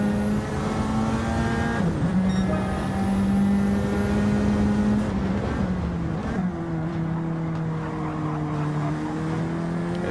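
Race cars in a sim racing game climb and descend a hill in a final sector, loud sustained engine tones holding steady, then dropping and shifting through gear changes as several cars run close together.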